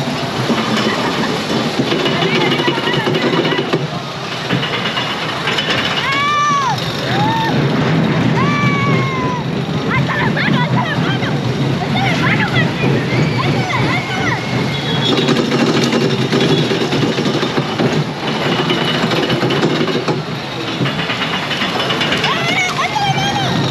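Wooden inverted roller coaster at Fun Spot America, its cars rattling and clattering along the track loudly and continuously, with riders' shrieks and chatter mixed in.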